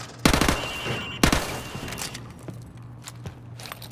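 Gunfire at range targets in Call of Duty Modern Warfare Remastered, likely from an MP5: two loud, rapid bursts near the start, then scattered quieter shots and a final sharp crack, close and dry with no talk.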